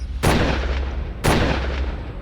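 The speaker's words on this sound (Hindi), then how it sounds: "2 गोलियां चलने की आवाज आई।" Two loud gunshots ring out about a second apart, each a sharp close blast with a short fading tail over a low background rumble, with no talking.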